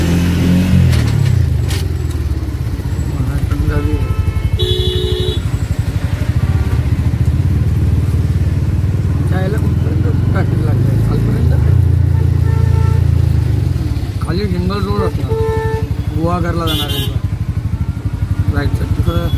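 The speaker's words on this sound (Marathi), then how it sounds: "ट्रॅफिक जरा लागली." Road traffic heard from inside an auto rickshaw on the Mumbai–Goa road in the Konkan: a steady engine drone with passing motorcycles and cars, horn-like tones and occasional revving, with some talk over it.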